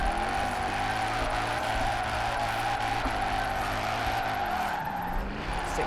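A car in Forza Horizon 4 drifts sideways with a loud, sustained tyre squeal over a droning engine, the screech holding steady for several seconds with slight pitch wavers.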